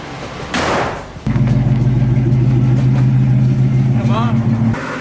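Ford Mustang engine starting with a sharp burst and then idling loudly with a steady low drone, a brief change in pitch near the end.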